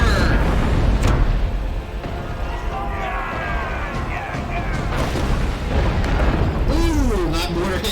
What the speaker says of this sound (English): The mortar shot hit, and we just saw the impact explode, and the whole ship just exploded from the inside.